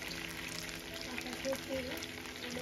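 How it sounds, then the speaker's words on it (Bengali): Carrots frying on a stove for a chili chicken and fried rice meal give a steady, moderate broadband sizzle that runs throughout, with faint kitchen clatter and a brief voice underneath. "চুলায় ফ্রাই করবো।"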